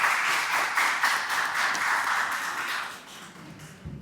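Applause from an audience at an academic panel discussion, a dense steady patter of many hands clapping for about three seconds before it thins and fades away.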